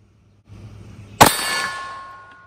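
A .22 Chiappa Double Eagle derringer shot strikes a steel silhouette target with one sharp metallic clang that rings and slowly decays, over faint background noise outdoors.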